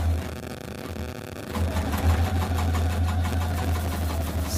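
Sewing machine back-stitching a seam on a cork and crochet bag, a quiet start and then a steady, close mechanical whirring and rattling, with no voices.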